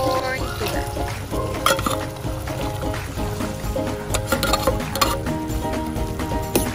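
A spoon stirs pasta sauce of mushrooms, tomatoes, onion and garlic in a pan, scraping and clinking steadily over a soft sizzle, close and fairly loud throughout.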